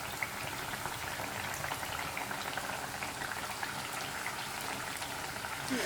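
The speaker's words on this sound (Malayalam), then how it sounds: "ഒരു മീഡിയം ഫ്ലെയിമിൽ ഇട്ടിട്ട് നമുക്കിതൊന്ന് ഫ്രൈ ചെയ്തെടുക്കാം." Ripe banana fritters (pazhampori) frying in hot oil over a medium flame, a steady dense crackling sizzle with fine bubbling pops throughout, close and fairly quiet, no talk.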